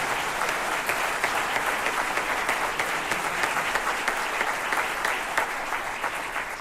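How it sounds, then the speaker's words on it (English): Sustained applause from a large audience honoring high school jazz band performers, dense steady clapping that holds evenly throughout with no pauses. "So let's give all of these individuals a round of applause."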